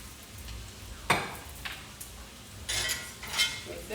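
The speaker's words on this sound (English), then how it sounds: "Mix it up a bit so we can heat up the mushrooms" Smoked sausage, peppers and mushrooms are stirred in a pan with a utensil, giving scattered scraping and clinking knocks against the pan over a soft sizzle, close and moderately loud.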